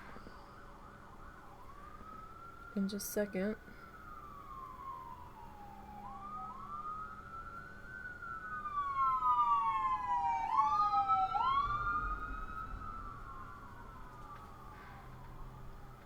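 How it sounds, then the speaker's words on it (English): An ambulance siren passes outside, its wailing tones rising and falling over several cycles, swelling louder as it nears and then fading away, heard through a quiet indoor room. "Got some sirens coming through"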